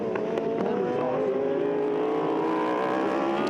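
High-revving BMW racing motorcycle in a Dunlop ThunderBikes race at Kyalami, its engine note shifting as it flies through a fast kink into Crowthorne corner, loud and sustained, under a commentator's voice.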